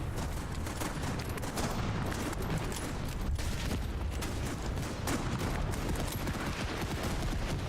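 Dense, continuous video game gunfire, rapid overlapping shots forming a steady loud barrage with no pauses throughout.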